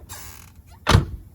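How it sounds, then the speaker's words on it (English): The door of a Chevrolet C4 Corvette swings shut, a faint creaking movement followed by one solid, close thunk that fades quickly, no talking. "close my door"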